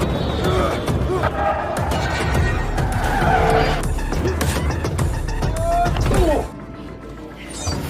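Bus skidding out of control during a fight scene in the film Shang-Chi, with loud screeching tires and engine roar under film score and scattered voices, cutting off abruptly near the end.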